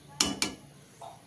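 A lid is set onto a cooking pot of spicy chicken curry with potatoes and capsicum, giving two quick close metallic clinks about a fifth of a second apart, followed by a faint brief tone.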